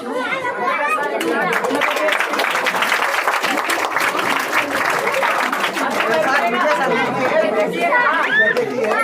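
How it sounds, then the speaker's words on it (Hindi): Applause and clapping from a crowd at a Teacher's Day celebration in a coaching centre, dense and steady throughout, mixed with loud overlapping chatter and voices. "ताली बजाते रहिएगा ना।"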